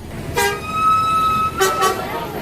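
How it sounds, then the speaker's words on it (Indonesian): A car horn sounds a long blast of about a second, then two short toots follow close together, all loud and near. "terdengar suara klakson mobil yang bernada panjang"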